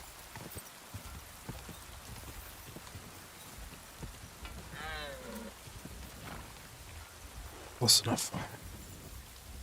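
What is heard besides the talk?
rain in video game Kingdom Come: Deliverance 2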